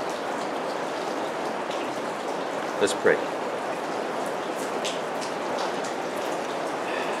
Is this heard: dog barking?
no